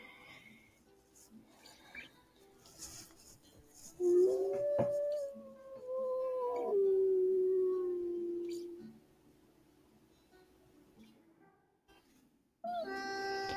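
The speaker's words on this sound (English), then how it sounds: "Letting out a higher pitched howl, he hopes that it will attract more attention." A long, rising wolf howl that holds and slowly falls, then another howl begins at the end; faint rustling fills the quieter stretches.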